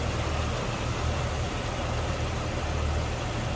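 A 1999 Jeep Wrangler Sport's inline-six engine runs at a smooth, steady idle, a continuous low rumble that stays close and even throughout with no talking.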